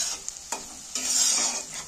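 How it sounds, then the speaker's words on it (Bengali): Onions salted in a hot pan sizzle steadily while a utensil scrapes and stirs them in a few distinct strokes, close up, with no voices. "পেঁয়াজগুলো আমার ভাজা হয়ে এসেছে"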